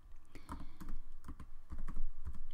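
Keys tap out a web address on a computer keyboard, steady and moderately loud clicking in a close, uneven rhythm with no talking.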